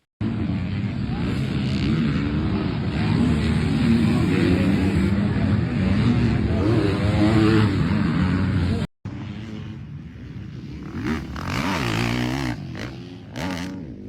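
Jorge Prado rides a motocross dirt bike, its engine droning loud and steady with rising and falling revs for about nine seconds, then a cut to a further pass with engine surges and revving.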